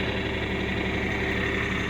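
A tractor engine idles at a steady, continuous low rumble with a faint mechanical knock, close by and unbroken throughout, with no voices.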